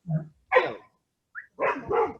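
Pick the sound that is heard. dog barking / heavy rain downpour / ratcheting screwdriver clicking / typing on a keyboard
dog barking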